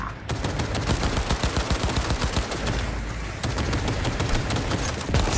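Rapid gunfire in Cyberpunk 2077 Phantom Liberty, dense bursts of close automatic shots rattling in quick succession for several seconds, loud and continuous with no talk.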